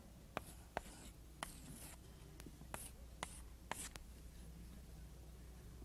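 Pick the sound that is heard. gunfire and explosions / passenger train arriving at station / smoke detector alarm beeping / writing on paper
writing on paper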